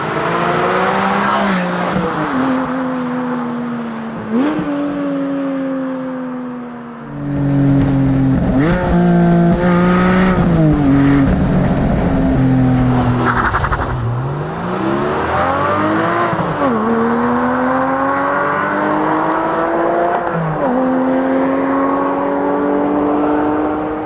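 A 2022 Porsche 718 Cayman GT4 revs hard and loud through repeated rising pulls, its engine note climbing, dropping at shifts and climbing again, with tire squeal and skidding over roughly twenty seconds of driving.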